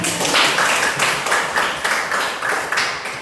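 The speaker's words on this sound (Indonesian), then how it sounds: "Kita tepuk tangan dulu." Students in an Indonesian classroom clap their hands together in a rhythmic pattern. Loud, near bursts repeat about twice a second in unison, with no talking.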